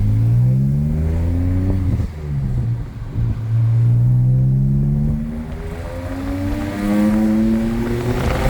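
BMW 335i with the N54 engine and six-speed manual accelerating on a rough road, a steady, loud engine drone rising in pitch through two gear pulls with a brief dip between, no talking.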